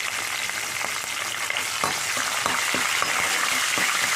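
Potato and eggplant pieces frying in plenty of oil for aloo baingan curry, a loud, steady hiss and crackle with intermittent stirring clacks from a spoon.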